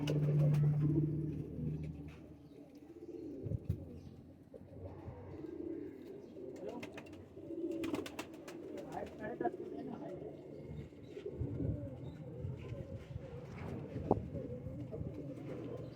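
Soft, low cooing of banded fancy pigeons repeats in gentle rolling phrases, with faint voices and scattered clicks in the background.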